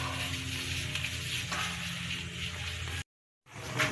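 Coconut milk stew with squid heads bubbling in a pot over a fire, a steady close sizzling and bubbling wash that cuts out briefly near the end, with no talk.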